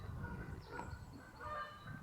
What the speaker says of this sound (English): Canadian geese again, them ones I know.